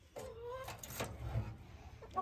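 A hen in an isolation pen on a farm gives a few soft, close clucks and low murmuring calls, quiet against a faint background.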